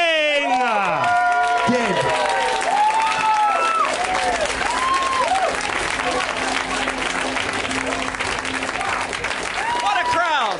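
A live Christmas sing-along audience applauds and cheers loudly and steadily throughout, with a host's voice calling out over the clapping in the opening seconds.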